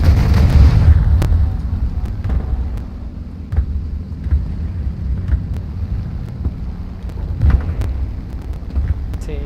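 Rockets exploding in a video game: a heavy boom at the start, then a scattering of sharp, distant pops and another thump later, all over a steady low rumble.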